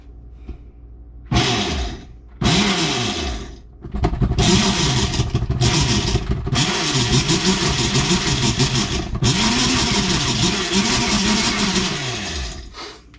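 A loud meat grinder whines and surges in repeated bursts as it grinds dried deer meat, stopping and restarting several times, with a steady mechanical drone filling the gaps.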